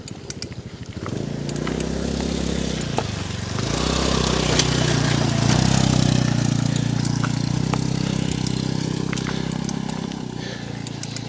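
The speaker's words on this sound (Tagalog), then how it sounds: "Kanan, may motor." A motorcycle on a hilly road runs close by with a steady, loud engine drone that dips and rises as the throttle changes, holding on for several seconds.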